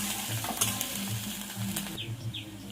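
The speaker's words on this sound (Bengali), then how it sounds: "পেঁয়াজটা তেলে একটু নাড়াচাড়া দিয়ে নেব।" Chopped onion is stirred in hot mustard oil in a kadai, a continuous sizzle broken by regular scraping strokes of a spatula, close and moderately loud.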